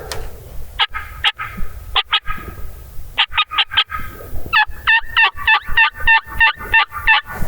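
Wild turkey calls in a river-bottom setting during spring hunting, loud and near, with spaced calls followed by a fast, regular series of repeated notes.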